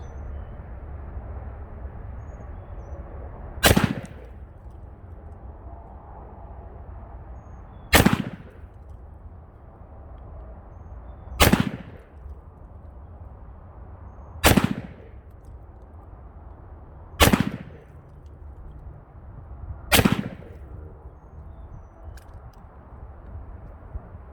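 Six single gunshots ring out at an outdoor shooting range from 25 yards, each a loud sharp crack with short echo, spaced roughly three to four seconds apart against low background rumble; a Colt Python revolver and VP9 pistol are in use.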